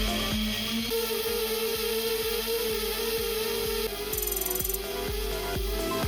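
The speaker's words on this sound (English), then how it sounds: "That sound is the motors straining when too much current is being drawn." Drone motors on a test stand, driven directly without filters, straining under excessive current draw: a steady tonal whine with rhythmic ticking pulses and broadband buzzing throughout, moderately loud and alone.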